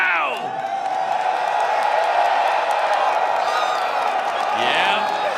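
A fighting-game tournament crowd cheers, whoops and bellows for Hikari in a big arena, a sustained loud roar with short shouts at the start and end.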